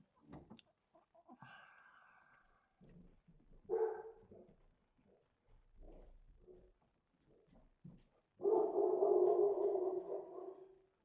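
A dog at home barks at dogs walking by outside, giving scattered barks and yelps spread unevenly over several seconds, ending in a longer, louder burst of barking, close by.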